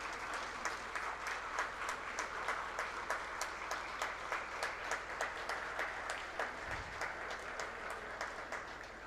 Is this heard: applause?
yes